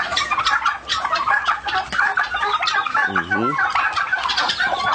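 A flock of turkeys on a Bengal turkey farm gobble and cluck together in a loud, busy chorus of overlapping calls, with one distinct warbling gobble rising above the rest midway through.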